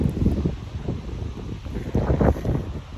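Gusty wind on the coast at Llandudno, Wales, buffets the microphone with uneven rumbling bursts, stronger near the end, over a faint steady hiss.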